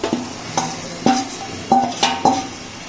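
Marinated beef sizzling in spiced oil in a pot, stirred with a utensil that scrapes and knocks against the pan in about five separate strokes over a steady frying hiss.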